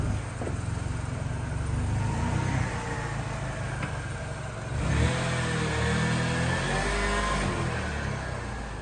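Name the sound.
Mini car driving off on its maiden run, wet outside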